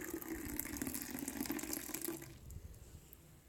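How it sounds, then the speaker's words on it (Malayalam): Milk poured from a height onto cappuccino mix makes a steady, soft splashing stream that runs for a couple of seconds and then fades away. "പാല് ഞാൻ ആദ്യം പറഞ്ഞ പോലെ തന്നെ നല്ലോണം മുകൾ ഭാഗത്തേക്ക് ഉയർത്തി വേണം"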